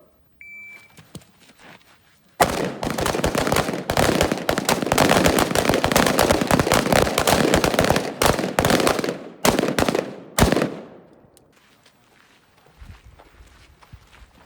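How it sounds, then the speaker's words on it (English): Carbine rifle gunfire on a training range, shooters firing five rounds from the low ready: a dense, loud stretch of overlapping shots from several rifles lasting about eight seconds, then a final crack and quieter outdoor ambience. "You'll fire 5 rounds center mass from any position except prone."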